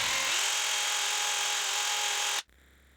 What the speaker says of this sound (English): I use my small lathe to sand everything in place